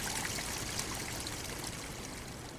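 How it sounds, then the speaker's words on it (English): Water is poured over a salamander to keep it wet, making a continuous trickling, splashing stream with no one speaking. "I poured water over the salamander to keep it wet, while Mia took its measurements"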